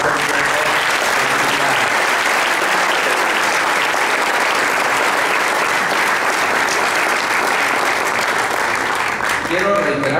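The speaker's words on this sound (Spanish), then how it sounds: "a quien le pido le demos un fuerte aplauso" A crowd at a Mexican public event applauds loudly and continuously for a long stretch, a dense roar of hands clapping, with voices rising faintly near the end.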